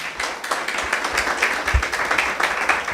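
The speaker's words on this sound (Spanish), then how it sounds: "Denle un aplauso al Señor." A church congregation applauds the Lord during a charismatic service, a dense and continuous patter of many hands clapping at moderate loudness throughout.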